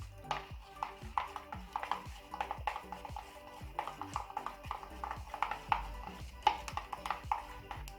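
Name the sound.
stirring slime made with dish soap and baking soda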